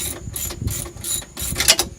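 A ratchet wrench turns the 9/16 nut on a Harley-Davidson Progressive 412 series shock, giving several quick, close bursts of sharp pawl clicking in a steady back-and-forth rhythm, with no talking.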